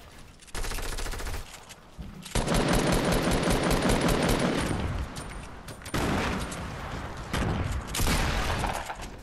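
Rapid automatic gunfire bursts in a shooter video game, loud and sustained in several long volleys with brief gaps between them, no talking.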